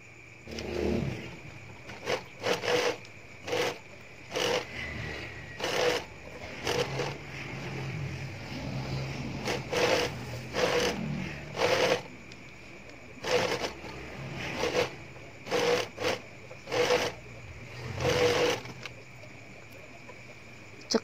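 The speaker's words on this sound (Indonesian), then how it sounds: "Lalu dijahit." Sewing machine stitching fabric for a tank top outfit, running in short repeated bursts of a second or so with quiet pauses between, fairly faint and close.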